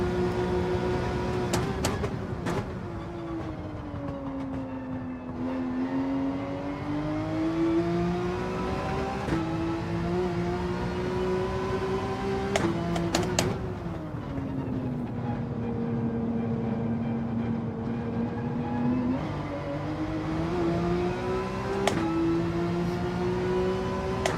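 Car engine in Gran Turismo 7 droning at steady revs while driving, pitch sweeping up and down through gear changes, with short sharp clicks and blips scattered through.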